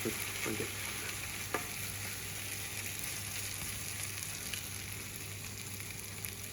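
Root vegetable hash frying hard over high heat in a pan, a steady broad sizzle running throughout with a few faint scrapes and taps as it is pressed flat with the back of a spoon; no talking.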